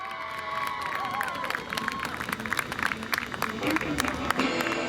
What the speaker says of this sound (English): one big round of applause for number 10, Captain David McBroom